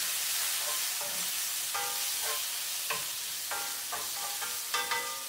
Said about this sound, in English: I'm gonna give it a little olive oil though, so it has a little room to breathe, you know what I mean? Okay, this is bacon and onion.